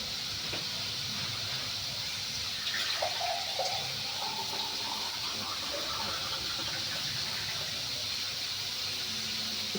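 A glass of water poured into a cooking pan after sautéing, producing a continuous loud hissing sizzle with faint splashing and bubbling that holds steady for the whole stretch.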